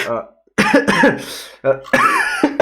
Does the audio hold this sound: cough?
yes